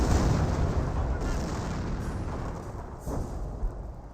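Priest self-propelled artillery lays down a barrage in Company of Heroes, with a heavy rumbling blast up front that fades into distant thuds and a couple of later booms.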